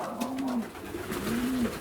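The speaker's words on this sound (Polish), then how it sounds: "No dzisiaj takie spanikowane te gołębie." Two soft, low pigeon coos, each a short rising-falling call, separated by a brief pause over quiet background noise.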